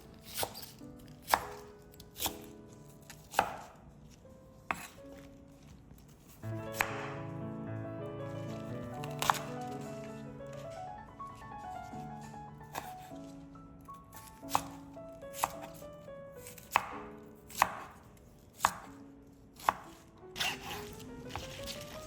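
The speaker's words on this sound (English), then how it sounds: "Slice the stems diagonally into 1/2 inch thick pieces." A knife slices bok choy stems diagonally on a cutting board in crisp, close chops at irregular intervals, with a sustained musical tone heard midway.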